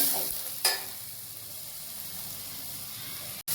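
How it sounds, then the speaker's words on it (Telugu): Tomatoes fry in a pan for potato fried rice, giving a steady soft hiss and sizzle with a brief stirring clatter near the start. "ఇప్పుడు టమోటాలు బాగా ఫ్రై చేసేస్తున్నాము"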